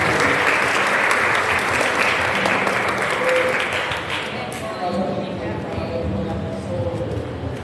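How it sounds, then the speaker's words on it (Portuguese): A church congregation at a Saturday Mass claps for a parishioner's birthday, a loud, dense round of applause that fills the room, tapering slightly toward the end as a voice speaks over it. "para a Marliene, uma salva de palmas também"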